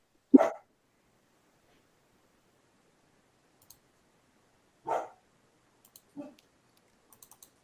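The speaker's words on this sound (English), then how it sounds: "I don't know if you guys can hear. That's Prudence, my dog." A pet dog named Prudence barks three times: two sharp single barks about four seconds apart, then a smaller, softer one, with quiet room stillness between them.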